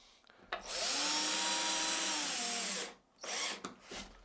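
Power drill driving four screws into a wooden stepstool, a loud steady whine for about two and a half seconds, then a shorter burst after a brief pause, with no talking.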